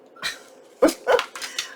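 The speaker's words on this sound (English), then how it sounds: "can you hear that dog?" A dog gives several short, sharp barks and yips close by, four quick bursts in under two seconds, heard alone with no talking.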